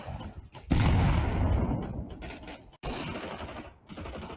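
A grenade blast in a tactical shooter video game, a loud booming burst that rolls and decays for about two seconds, followed by a second burst of gunfire-like noise, with no talk over it.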